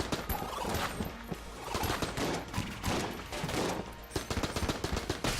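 Constant gunfire in Enter The Gungeon during an alternate boss fight, rapid popping shots and bursts close up and fairly loud, with no talk.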